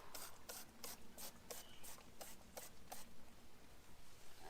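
A series of short, sharp spray hisses repeats at a quick, irregular rhythm, quiet and close, drying rainwater off a Honda Civic hatchback panel, with brief silences between bursts.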